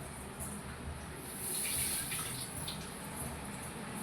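A tap runs steadily during washing at home, a close, even splash and gush of water that swells briefly midway.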